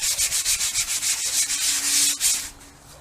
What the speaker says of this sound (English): just sand the form down